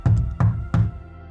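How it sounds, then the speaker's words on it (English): Three firm knocks on a door, evenly spaced and close, each a sharp thud with a short ring, followed by quiet. "The grandparents knock"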